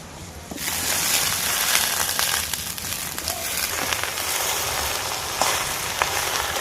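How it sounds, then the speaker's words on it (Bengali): Taro flowers and leaves tipped into a pan of onion and garlic frying in oil, outdoors in the Sundarbans, bring a sudden rise to a dense, loud crackling sizzle with occasional clicks and stirring scrapes. "এবার কেটে রাখা কচুর ফুল আর পাতাটা দিয়ে দেবো।"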